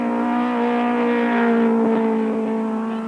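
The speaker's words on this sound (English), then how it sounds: "The final corner for Steve Wyndham in the dealer team Toyota Sprinter" A dealer-team Toyota Sprinter race car drives through the final corner of a circuit, its engine holding a steady, strong buzzing tone with a slight pitch change mid-pass, moderately near and alone.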